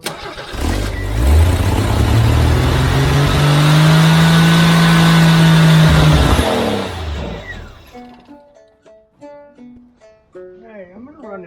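A 1983 Jeep CJ engine cranks and catches, then runs loud and steady close by for about six seconds before shutting off, leaving quieter clatter and faint tonal sounds afterward.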